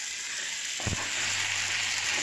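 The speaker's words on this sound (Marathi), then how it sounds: "ती या फोडणीमध्ये आपण खरपूस अशी परतवून घेणार आहोत" Potato and cluster beans stir-fried in hot tempering on an iron griddle, a steady close sizzle with a brief scrape of stirring partway through.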